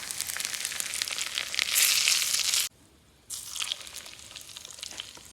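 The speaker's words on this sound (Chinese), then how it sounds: "淋上热油" Hot oil poured over chili powder, cumin powder, sugar, salt and sesame seasoning, giving a loud crackling sizzle that swells, drops to near silence briefly, then resumes as a softer steady crackle.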